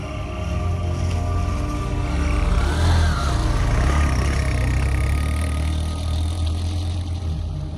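Motorcycle engine running on a snowy mountain jeep track in the Neelum Valley, a steady loud low rumble close by with wind noise over it and no talk.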